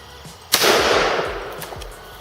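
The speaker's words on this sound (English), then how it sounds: "I'm going to shoot a handful of skeet real quick" A single close shotgun blast at a skeet shoot, a sharp loud crack at the start followed by a long decaying echo rolling across open ground, with no talk.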